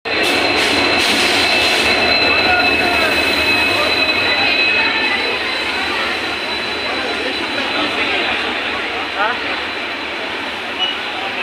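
The Kamrup Express, an Indian passenger train, stands amid loud, continuous station and rail noise, with a steady roar and faint wheel squeal.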